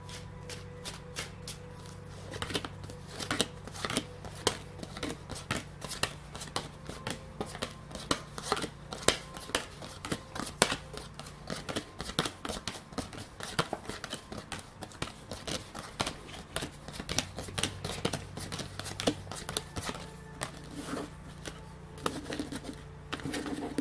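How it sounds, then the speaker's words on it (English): Continuous riffling and flicking of tarot cards, a dense run of crisp papery clicks that keeps going with only brief pauses, close and steady. "I'm going to go ahead and start shuffling the cards"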